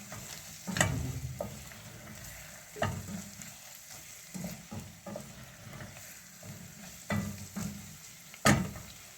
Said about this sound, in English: So we're going to add the spices, let them cook. Stir that up nicely.